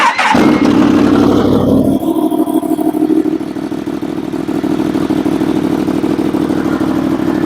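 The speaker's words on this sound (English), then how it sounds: "let the bike run for a couple seconds here" A 2017 Yamaha FZ-10 motorcycle starts up and settles into a steady, loud idle close by, with an initial burst of mechanical clatter giving way to an even engine drone.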